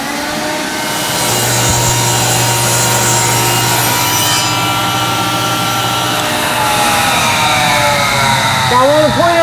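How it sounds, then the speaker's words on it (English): A wooden siding board fed through a planer, giving a loud, continuous buzzing roar with a steady low hum beneath, the tone shifting as the wood passes through and a brief squeak near the end. "when we're running it through the planer, we only have to run it through the planer one time"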